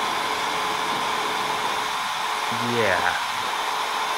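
Loud 1U rack server fans whirring at power-on in a home setup, a steady broadband rush throughout with a brief rising spin-up tone near the end, and a short spoken word.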